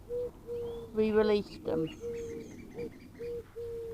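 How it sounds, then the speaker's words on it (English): Wild birds call and coo around a garden bird table and dovecot, with repeated steady tonal notes and brief chirps close by, while a person speaks over part of it. "You can hear the lovely bird song, it's amazing."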